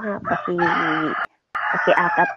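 A rooster crows loudly and close by, two long drawn-out calls separated by a brief silence.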